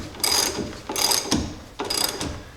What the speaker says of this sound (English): I always like to tighten this up by hand, that way I don't over torque it with the impact.